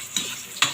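Pork adobo cooks in a pan with a soft, steady sizzle, broken by two quick scraping stirs of a utensil against the pan, close and fairly quiet.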